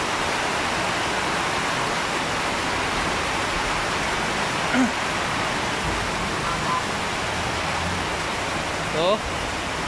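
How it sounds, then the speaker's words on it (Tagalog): Heavy early-March rain pours steadily in a city street with offices and jeeps nearby, a dense unbroken hiss that stays loud and even throughout, with a few faint brief sounds poking through. "Malakas yung ulan."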